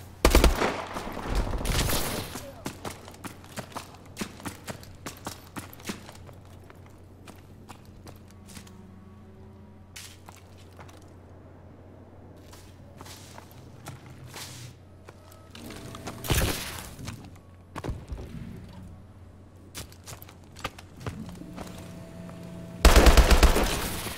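Gunfire in a Call of Duty Search and Destroy match comes in bursts of loud shots at the start, midway and at the end, with quieter footsteps and game sounds between the volleys.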